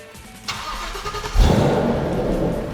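A 2014 Shelby GT500 with its factory-supercharged 5.8-liter engine cranks briefly, then fires with a sudden loud burst and settles into a deep, strong, steady rumble close by.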